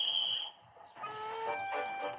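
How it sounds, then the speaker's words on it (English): Cartoon steam engine Peter Sam chuffing along a narrow-gauge line, heard as a steady rhythmic chugging with a sustained whistle-like tone, fairly faint and alone with no talking. "Peter Sam puffed happily away, singing a little song."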